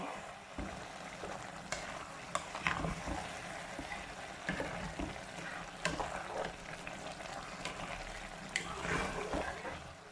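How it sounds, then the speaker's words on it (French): Water is added to a pan of aubergines simmering in tomato sauce. A steady close sizzle and bubbling runs throughout, with scattered clinks and stirring knocks and no clear talk. "Je rajoute encore de l'eau"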